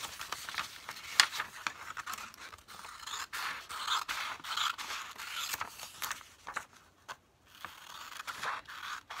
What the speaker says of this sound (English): I'm going to trim all the white